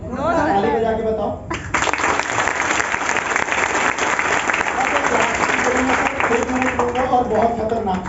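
Seminar audience at a business talk in Ayodhya clapping in a loud, sustained burst of many hands, with a speaking voice before and after and some crowd murmur mixed in.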